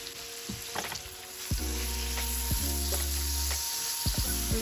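Sliced apples cooking in butter with brown sugar and cinnamon in a pan, giving a steady close sizzle with a few stirring scrapes and clanks, no talking.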